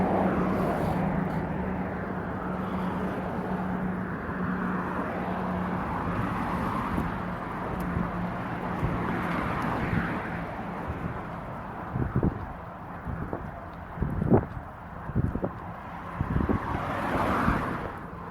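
Traffic on a noisy road, a continuous low rumble of passing vehicles with wind buffeting, growing more uneven toward the end with several sharper bursts.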